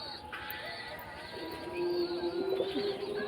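A Doyaj hen pigeon in a loft gives a low, steady coo that swells in the second half, with a soft, continuous hum of other birds and loft noise running underneath.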